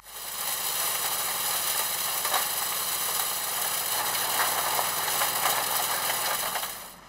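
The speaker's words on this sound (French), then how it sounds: "un mini-tracteur capable d'alimenter une machine décortiqueuse" A home-built mini tractor's engine runs steadily throughout, made to power a hulling machine; a continuous mid-pitched mechanical drone with vibration and no speech, fairly loud and close.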